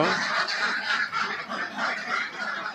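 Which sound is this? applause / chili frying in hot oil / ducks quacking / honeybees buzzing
ducks quacking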